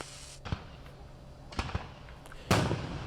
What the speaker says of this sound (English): That sound is signifying when a community picnic with a fireworks display in Purdy